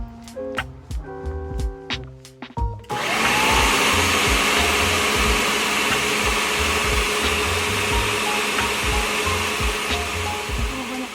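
After a few clinks and taps, a blender roars to life and runs steadily at high speed, blending curry paste, a loud whirring that continues to the end.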